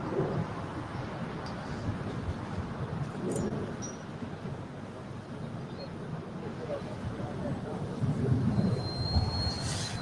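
An airliner departing from LAX's south side gives a broad rumbling roar that builds toward the end, distant and steady under background murmur with occasional voices.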